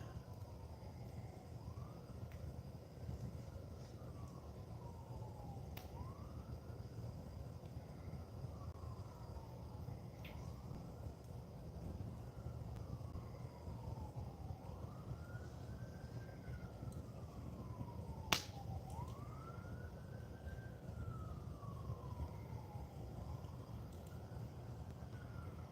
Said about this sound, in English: Sounds like round 2 of the police sirens.